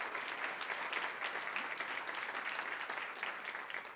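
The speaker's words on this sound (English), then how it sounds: "big round of applause for them" An audience at the Rockie Awards ceremony applauds with dense, steady clapping of a sizable crowd that holds evenly throughout.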